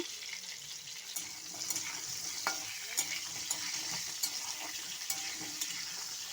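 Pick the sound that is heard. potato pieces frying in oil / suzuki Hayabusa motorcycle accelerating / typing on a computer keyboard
potato pieces frying in oil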